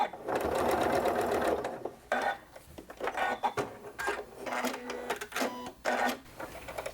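A sewing machine stitches quilt-as-you-go block pieces together in bursts of rapid mechanical whirring, pausing briefly between runs, close and fairly loud.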